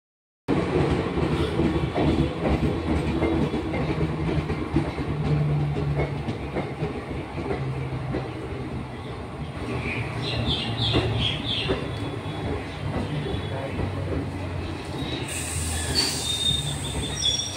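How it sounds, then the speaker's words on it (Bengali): Sealdah–Vadodara Special passenger train pulling into a station, wheels squealing on the rails with steady rumble and clatter of carriages, close and loud throughout, squeal growing sharper near the end as it slows. "শিয়ালদা বড়োদরা স্পেশাল এসে দাঁড়ালো এখন এখানে।"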